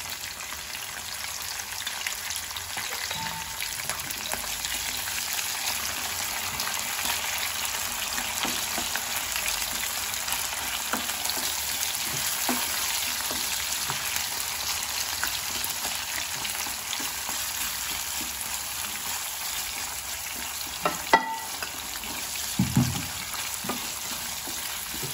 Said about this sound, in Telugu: అలాగే పచ్చిమిర్చి కూడా వేసేసుకుంటాను.